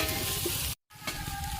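Boiled potatoes added to hot oil with cumin, dry chillies, bay leaf and ginger paste for a cabbage curry at a picnic, a dense sizzle interrupted by a brief silent gap before it resumes.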